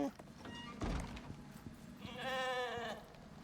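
A sheep in the survival game Icarus, a wild-bloodline male, gives a clear wavering bleat near the end, after a few low thumps, with a voice talking earlier.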